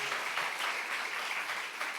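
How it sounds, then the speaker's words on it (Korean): A church congregation claps together during a sermon, a sustained burst of dense applause filling the room without speech. "박수 한번 주세요."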